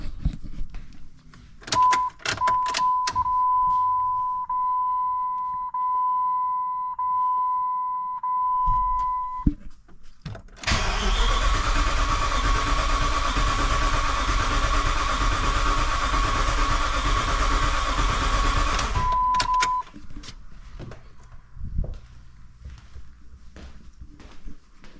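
A Jeep Grand Cherokee WJ 4.7 V8 with its timing off cranks and catches. A steady electronic beep sounds first, then the engine runs loud and rough for about nine seconds before settling to a quieter idle, with clunks around it.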